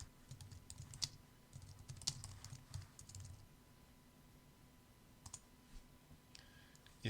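Fingers tap out a short burst of typing on a computer keyboard to rename a file, with quick clustered clicks, a pause, then a few more keystrokes, quiet and close.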